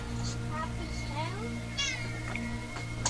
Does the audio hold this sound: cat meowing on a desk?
yes